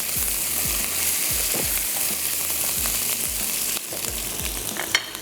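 Masala for chapli kebab frying in a pan: a loud, continuous close sizzle with repeated low thumps and scrapes of stirring at an uneven rhythm.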